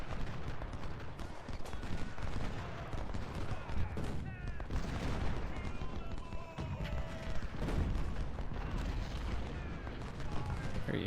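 Cannon and rifle fire crackle continuously in a Civil War battle in Ultimate General: Civil War, with dense volleys of musketry and booming artillery rolling together at steady loudness throughout.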